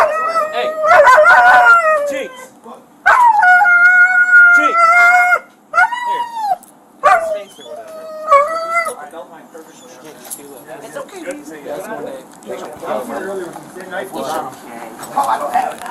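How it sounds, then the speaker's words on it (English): A dog howls loudly and close by in long, drawn-out wails, then breaks into shorter whimpers and cries that fade into quieter, noisier sounds. "It is your dog or it's his dog?"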